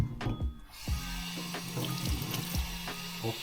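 Cold water for quiche dough pours from a tap in a splashing, steady stream, with clinks and a low running hum, close and moderately loud without talk.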